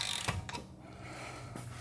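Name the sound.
torque wrench tightening Mercedes-Benz GLA CV axle bolt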